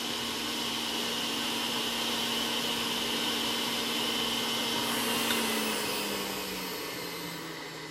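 A juicer runs steadily while churning produce, a loud continuous motor whine with a broad rushing hiss that holds even throughout, its hum dipping slightly in pitch near the end as it winds down, with no voices.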